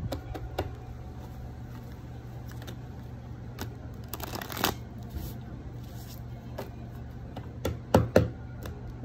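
Tarot cards being shuffled by hand, soft riffling bursts and taps over a low steady hum, with a couple of sharper clicks near the end.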